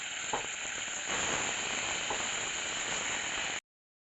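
Chopped tomatoes sizzling in hot oil in a pan, a steady, even hiss with faint crackles that holds for a few seconds and then cuts off abruptly.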